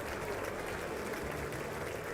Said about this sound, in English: These motherfuckers are still clapping